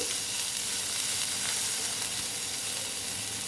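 Ginger paste sizzles in a hot pan, a dense steady hiss with soft stirring scrapes mixed in, moderately loud and close.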